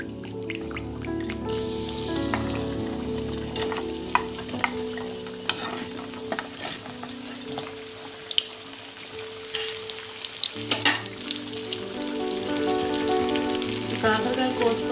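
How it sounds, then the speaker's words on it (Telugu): Bitter gourd slices frying in plenty of oil in a pan, a steady close sizzle with scattered crackles and pops and occasional stirring clatter throughout. "ఇప్పుడు కాకరకాయలు వేసుకుంటాం."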